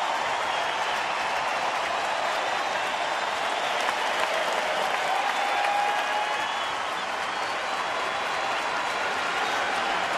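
A sellout baseball crowd stands and applauds at a Minnesota ballpark, a dense, steady wash of clapping and crowd roar that fills the whole stretch without a break.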